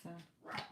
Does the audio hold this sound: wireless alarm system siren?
no